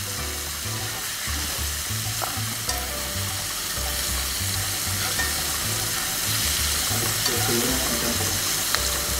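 Fresh, cleaned shrimp fry in a pan with a loud, continuous sizzle close up, joined by occasional stirring scrapes and a steady low rumble underneath.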